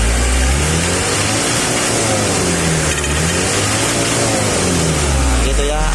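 A Mitsubishi L300 diesel engine revs loud and close, with steady throttle rises and falls over a continuous low rumble and no pauses.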